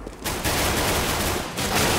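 Dense bursts of gunfire crackle in the video game CS:GO during a competitive de_cache match, forming loud, almost continuous rapid fire with a brief dip partway through.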